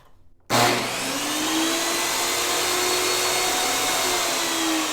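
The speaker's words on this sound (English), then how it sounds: "So this is what it sounds like when it gets turned on." A Ryobi 10-inch table saw motor switches on abruptly with a loud burst and spins up into a steady, high-pitched whine that holds constant.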